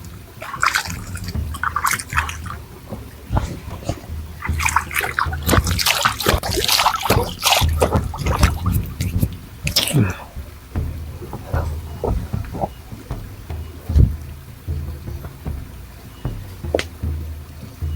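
Water trickles and drips while coffee is brewed outdoors at a valley campsite in the late afternoon, with an irregular, close patter of liquid and soft clinks and a faint voice in the background.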